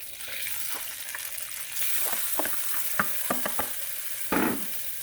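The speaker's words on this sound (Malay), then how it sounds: "untuk kita goreng dia ni, kita kacau dulu mi kita ni" Noodles sizzle in a hot pan while a utensil scrapes and stirs them in short, irregular strokes, the frying getting louder midway.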